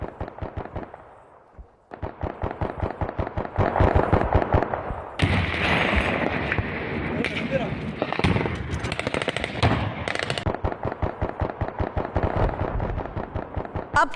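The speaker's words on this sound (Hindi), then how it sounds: "पाकिस्तानी पोस्ट पर ताबड़तोड़ गोलीबारी की गई है अफगान फौज की तरफ से" Heavy automatic gunfire rattles in long rapid bursts at a Pakistani border post under attack by Afghan forces, sharp repeated reports with dense overlapping shots and echoing blasts in the middle, loud and close with no talking.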